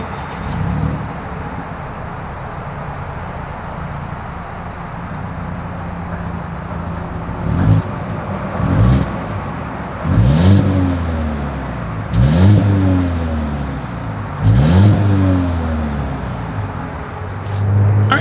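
A 2022 Volvo XC90 T6 AWD idles with a low exhaust rumble, then its engine revs repeatedly in about five sharp blips that rise and fall in pitch, heard close with no talking.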